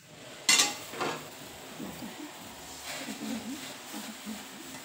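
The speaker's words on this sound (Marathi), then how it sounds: "हे आता मी एका परातीमध्ये काढून घेते" Roasted poha for Diwali chivda is tipped from a pan into a wide plate, opening with a sharp metallic clatter of the pan edge, then soft scraping and rustling of flakes as someone speaks quietly.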